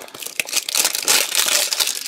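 Plastic foil wrapping is peeled and crinkled off a getDigital merchandise package, giving loud, close, continuous crackling and rustling for about two seconds.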